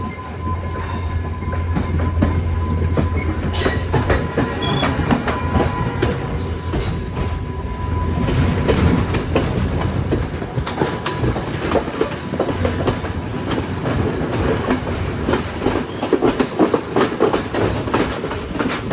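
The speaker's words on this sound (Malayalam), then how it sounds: "അങ്ങനെ ട്രെയിൻ എടുത്തിരിക്കുകയാണ്" The Yal Devi Express, heard from inside a second-class carriage between Maho and Anuradhapura, Sri Lanka, rumbles loudly and continuously, its wheels clattering in an uneven clickety-clack with faint metallic squeals, close and enveloping.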